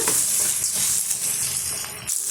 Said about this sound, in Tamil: இந்த வெங்காயம் வெள்ளை பூண்டெல்லாம் ஓரளவுக்கு நல்லா வதங்கி வந்துடும்